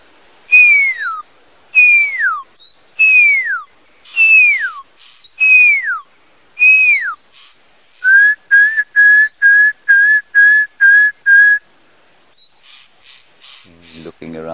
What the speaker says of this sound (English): The lilac-breasted roller will be worried about that. You know, they alarm call at all the predators.